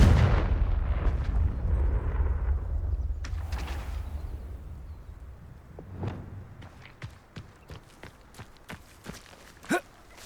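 The Confringo fire spell from the Hogwarts Legacy game bursts in a deep, rumbling explosion that slowly dies away, followed by scattered footsteps and sharp clicks, one louder near the end.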